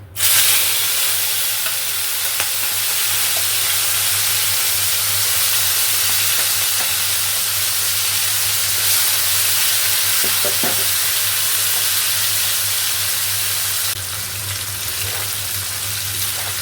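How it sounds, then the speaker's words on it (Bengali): Dried lotia fish (shutki) frying in hot oil for a taro-stem curry, a loud continuous sizzle with occasional pops and faint stirring scrapes near the end. "তেল গরম হয়ে গেছে, এবার আমি শুটকি মাছগুলো ভেজে নেব।"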